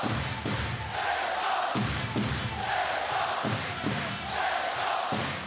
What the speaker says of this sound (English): the crowd up on their feet, the bass drums being pounded, feet being stomped and hands clapped